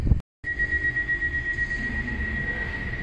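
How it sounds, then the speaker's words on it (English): Steady rumble and hum inside a modern passenger train in motion, with a continuous whine running through it, heard close and alone after a brief dropout at the start. "Never been on a train like this before. Very modern."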